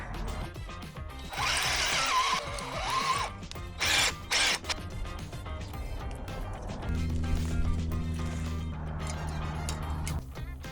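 A power drill drives screws during a house renovation, with bursts of whirring and ratcheting, a short pause, then a longer steady low drive, close and fairly loud.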